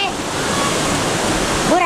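Ocean waves breaking along the shore at Pelabuhan Ratu, a steady loud wash of surf with wind rumble throughout and a swell rising near the end.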